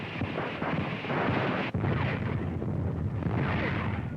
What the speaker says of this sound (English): Now American gunners scratch off a Stuka.